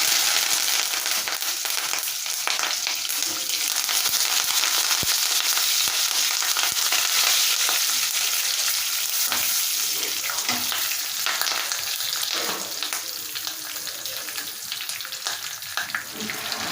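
Curry leaves fry in hot oil in a pan while tempering gongura dal, a loud continuous crackling sizzle with sharp pops scattered through it, close and steady the whole time.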